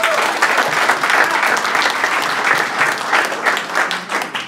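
Sustained audience applause after a startup pitch at an evening pitch event, loud, dense clapping from a room of people, continuous with slight swells and no talking.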